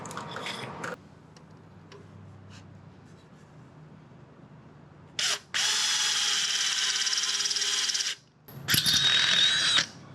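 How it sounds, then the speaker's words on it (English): A power drill whirs in two sustained bursts, grinding steadily into a steel wishbone I-beam on a 1931 Ford Model A hot rod, loud and close, with quiet pauses between. "we'll drill a hole in the center of that wishbone I-beam"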